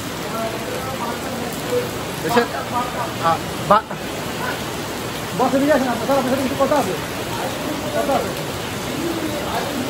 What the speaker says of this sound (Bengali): যে পরিমাণ বৃষ্টি হতেছে